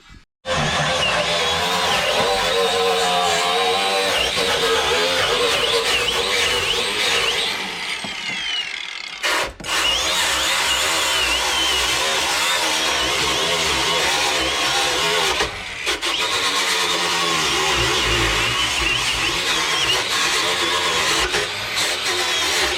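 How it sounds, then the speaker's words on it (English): A power tool sands and wire-brushes the floor of a Jeep XJ, giving a loud, continuous rasping grind with brief drops where the tool lifts off the metal. "sanding and wire brushing and getting lots of stuff in our faces"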